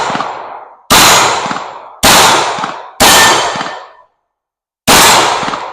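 A Smith & Wesson Bodyguard 2.0 .380 pocket pistol fires Remington UMC 95-grain rounds at a shooting range: four loud, sharp reports about a second apart, each with a short ringing tail, then a pause before the last.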